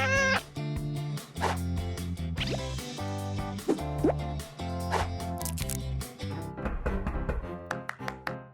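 A cat meows repeatedly, loud and close, its cries mixed with bright music and sharp plopping effects.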